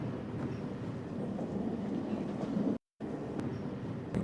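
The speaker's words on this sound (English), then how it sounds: "Train comes in, she's walking, and then boom." Train arriving in a short film edit: a low, steady rumble of rolling wagons at moderate distance, continuous apart from a brief dropout, with no voices.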